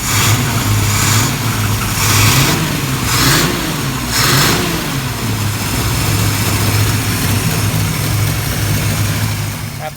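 A 1966 Ford Mustang with a swapped 351 Windsor V8 runs steadily close by, its loud, low idle rising and falling through a few light revs.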